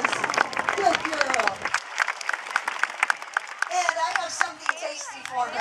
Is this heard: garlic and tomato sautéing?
no